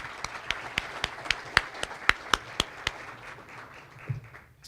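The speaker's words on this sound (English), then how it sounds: "let's give Nick a round of applause for helping us out today" At a Pasco Chamber of Commerce luncheon, sparse, evenly spaced claps ring out for Nick, about a dozen sharp hand claps, fairly quiet, with a faint murmur beneath.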